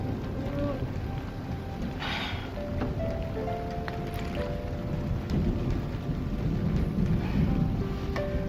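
Steady heavy rain falling outdoors, with rumbling thunder low beneath it and a few faint tones over the constant downpour.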